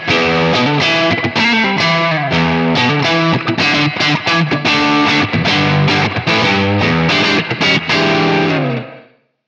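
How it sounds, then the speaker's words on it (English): An electric guitar plays rhythmic strummed chords through a Klowra Limbo reverb pedal set to a vintage spring tank emulation, with subtle drip and natural drive. It sounds loud and close, and the last chord rings out and fades to silence. "Spring is a lively spring tank emulation, complete with that subtle drip and natural drive."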